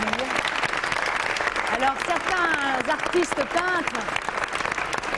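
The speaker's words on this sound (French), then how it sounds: "Magnifiques, allez, on peut très bien les applaudir." An audience claps steadily at a televised tribute to Serge Gainsbourg, a thick, even patter of hands running throughout while a presenter keeps talking over it.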